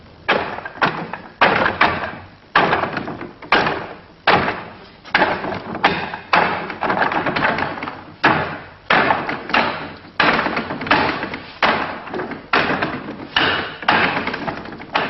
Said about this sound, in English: Using the dummy man allows all the techniques to be used strongly.